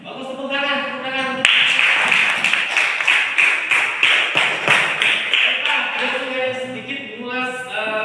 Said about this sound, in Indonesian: Ya, bagus, tepuk tangan.